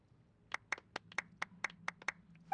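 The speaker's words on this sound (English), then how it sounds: "A round of applause, please." A small handful of characters clap in a Genshin Impact cutscene, with roughly a dozen crisp, separate hand claps in an uneven rhythm, quiet and close, with no talk over them.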